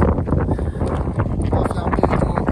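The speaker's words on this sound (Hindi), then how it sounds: "तेज हवाएं चल रही है यहाँ पे" Strong wind gusts across the Amarnath Yatra mountain route, buffeting the microphone with a loud, rough, continuous roar while a voice talks underneath.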